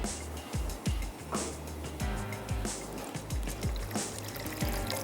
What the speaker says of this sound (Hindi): जितना आपको ग्रेवी के लिए पानी चाहिए, इतना आप इसमें ऐड कर दें पानी।